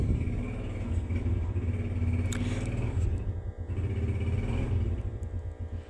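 A motorcycle engine drones steadily in the background, a low continuous rumble that swells slightly at moments across the whole stretch, with no talk over it.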